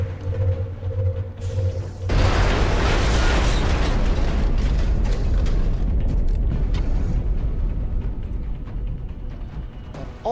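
Rocket explosion in the video game XCOM Enemy Within: a quiet stretch, then a loud sudden blast that bursts into a sustained, dense roar and rumble, slowly fading toward the end.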